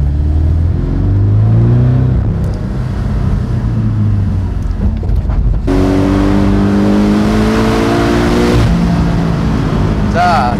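A Porsche 718 Boxster GTS in Sport Plus mode on a winding mountain road, engine droning and shifting pitch as it accelerates, with a sharp rise in revs midway, someone talking over it.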